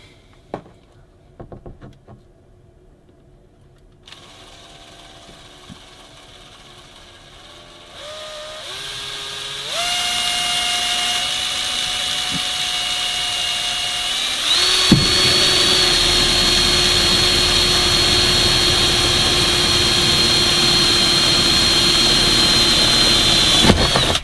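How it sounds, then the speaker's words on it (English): Scattered tool clatter gives way to a power drill with a 3mm bit whirring, its pitch stepping up as it bores a pilot hole and holds a loud steady whine. "And then I'm going to drill a pilot hole."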